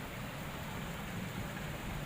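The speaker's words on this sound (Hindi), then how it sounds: "और देखिए बारिश इतनी तेज़ हो रही है" Heavy rain falling steadily at a home, a dense, even wash of hiss without clear drops or pauses, moderately quiet and constant throughout.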